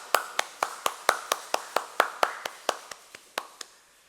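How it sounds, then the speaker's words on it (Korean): A church congregation at a Korean Sunday worship service claps in a quick, even rhythm, about a dozen sharp strikes in four seconds, close and clear with no talk. "우리 박수 한번 해주시기 바랍니다."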